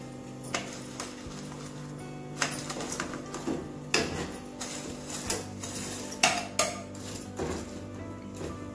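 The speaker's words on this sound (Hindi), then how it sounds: "अब मैं इसमें मैगी डाल दूंगी और मैगी को बॉईल कर लेंगे" Maggi noodles dropped into a pot of boiling water, with a steady low bubbling hum broken by repeated clinks and knocks of utensils against the pot throughout.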